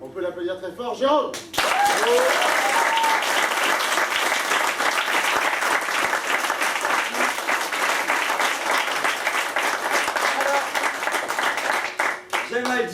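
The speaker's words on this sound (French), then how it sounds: "L'auteur du spectacle, on peut l'applaudir très fort, Jérôme." An audience at the final performance of a village show applauds its author, with loud, sustained clapping that swells after a brief spoken introduction and runs strongly for about eleven seconds before tapering off.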